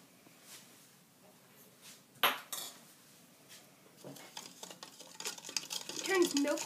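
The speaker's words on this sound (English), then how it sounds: "I'm going to get my measuring spoon." A measuring spoon clinks and scrapes against metal and dishware while borax is measured, with a sharp clatter midway and busier rattling toward the end, fairly close and otherwise quiet.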